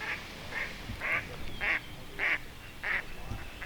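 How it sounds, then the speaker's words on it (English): A bunch of ducks quacking, with about seven separate quacks spaced in an uneven rhythm over steady low background noise, fairly close and without speech. "Bunch of ducks making noise."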